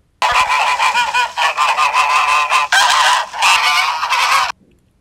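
A goose honks loudly and close by in a continuous run of harsh, rapid calls lasting about four seconds, with no voices or other sounds beneath it.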